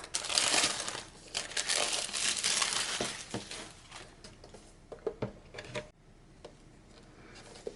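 Close, loud crinkling of plastic packaging on a set of colored pencils at first, tapering into scattered crackles and small taps as handling slows.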